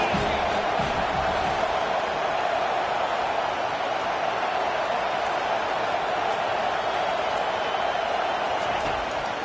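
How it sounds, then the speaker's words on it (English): A large stadium crowd at a college football game roars in a steady, sustained wall of cheering that holds at full strength throughout, with no break or lull. "This crowd rising up, sensing that its defense needs some help."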